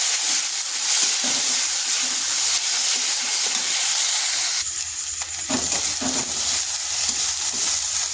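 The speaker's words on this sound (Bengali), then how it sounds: "দিয়ে দিচ্ছি 1 ইঞ্চি আদা পেস্ট আর 5 থেকে 6 কোয়া রসুন পেস্ট। এগুলোকে হালকা একটু ভেজে নিচ্ছি" Ginger and garlic paste frying in a pan, giving a steady, loud sizzle and hiss that runs unbroken throughout, with a slight shift in texture partway as the paste is moved around.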